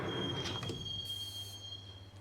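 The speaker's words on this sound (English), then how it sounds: "the train doors had already shut behind me, and I was in for the ride" A subway train rides along in the Max Payne video game, giving a steady low rumble with a few sharp clacks and a high wheel squeal partway through.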